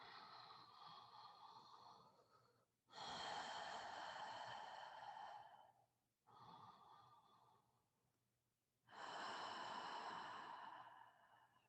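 Slow, deep breaths in and out through the mouth, close and soft: four long airy strokes over about twelve seconds, alternating quieter and fuller, with no talk.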